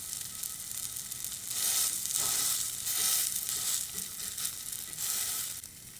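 A plant-based burger patty sizzles loudly in a hot pan with avocado oil, a steady bright crackle that swells and stays dense throughout, with no talking.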